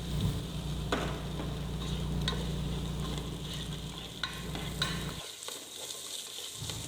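Potato pieces stirred into a Kerala-style prawn curry in a hot pan, a steady oily sizzle with scraping spoon strokes and occasional clacks against the pan, close and continuous, then briefly quieter near the end.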